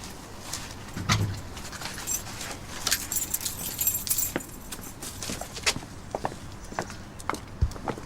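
Garage keys jangle close by as they are passed from one hand to another, with soft rustles, a few footstep-like thumps and brief metallic clinks scattered across several seconds.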